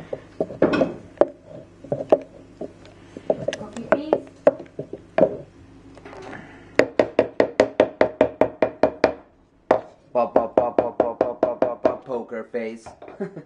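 A wooden spoon stirs a drink in a glass vessel, making sharp hollow knocks and clacks. They come in irregular clusters, then in fast rhythmic runs of quick, close taps.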